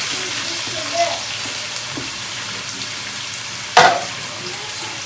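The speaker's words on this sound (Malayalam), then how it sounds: "നമ്മുടെ എണ്ണയൊക്കെ ഏകദേശം മൂത്ത് വെക്കുന്ന സവാള ഇട്ടോട്ടാം" Sliced onion frying in hot oil in a home kitchen, a steady close sizzle with light stirring and a sharp utensil clatter near the end.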